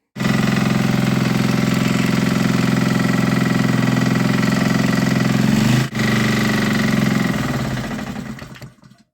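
A repaired Honda 160 cc vertical-shaft small engine runs close and loud with a steady rapid chugging beat, stumbling briefly once before settling, then dying away at the end.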